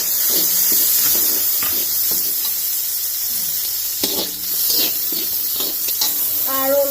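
Raisins and cashews, 100 grams each, poured into hot oil in a pan for vegetable biryani, sizzling and crackling steadily with stirring clatter throughout, close and continuous.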